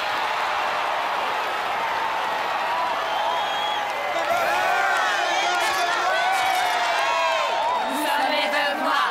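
A crowd cheers, whoops and applauds for a champion majorette team at a competition, a loud sustained roar of voices and clapping that swells midway, with an announcer speaking.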